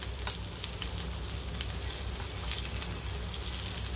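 Chicken cheese kebabs fry in a pan with a little oil, giving a steady, close crackling sizzle with fine popping spatters throughout and no voices.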